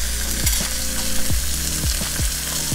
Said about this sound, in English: now my fish has been sitting for a little bit and now I'm going to put it in the cast iron and let it cook on both sides